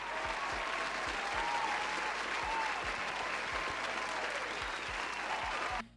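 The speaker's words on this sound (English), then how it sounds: "Let's give her a round of applause, everyone." Canned applause from a soundboard, a dense, even burst of crowd clapping that holds steady for several seconds and then cuts off abruptly.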